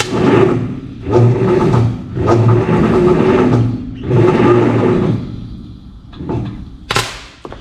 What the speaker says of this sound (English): it'll spin over a little bit. You can hear the compression